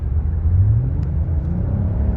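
A car with a drivability problem on a road test, accelerating at full throttle: a heavy, steady low engine rumble and droning whir from inside the cabin, continuous and fairly loud, with no talking.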